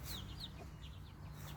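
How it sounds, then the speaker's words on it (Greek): A hen with two chicks makes soft, close clucking and faint peeping chirps over a steady low background hum, in a short continuous stretch with no talking. "εδώ μία κότα σε δύο κοταπουλάκια."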